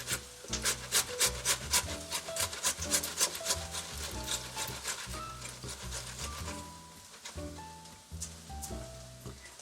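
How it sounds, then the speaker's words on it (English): A vegetable is grated on an IKEA grater for rice in rhythmic, close rasping strokes, quick and repeated, under soft background music with no talk. "I cut it in half and I just grate it to add it to the rice"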